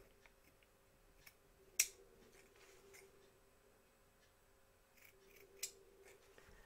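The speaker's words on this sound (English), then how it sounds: "We're going to cut across on the diagonal for our corners, taking care not to cut our stitches." Scissors snip diagonally across fabric corners on an in-the-hoop embroidered towel topper, two crisp close cuts standing out among faint small clicks in a quiet room.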